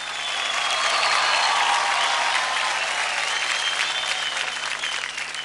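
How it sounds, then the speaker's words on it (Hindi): Loud, sustained applause from a studio audience on a kids' dance competition show cheers a young performer, a thick wall of clapping and crowd noise that stays strong throughout. "जोरदार तालियां हो जाए जीत बाबू के लिए।"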